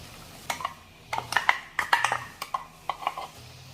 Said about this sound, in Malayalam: അതിലേക്ക് നമ്മൾ അരച്ച് വെച്ചിരിക്കുന്ന അരപ്പ് ചേർക്കാം